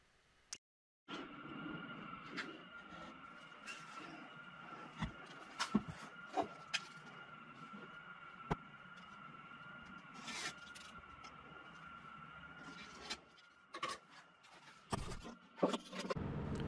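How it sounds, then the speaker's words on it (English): A Shop Fox mortising machine cuts stretcher mortises in a workshop, a steady motor whine running throughout, broken by repeated sharp chopping clunks as the chisel plunges into the wood. "For the end stretcher mortises, I put the new Shop Fox mortising machine to work."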